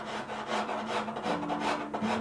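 Steady rasping strokes of a tool scraping across the underside of a wooden tabletop, continuous and close, with a low hum underneath.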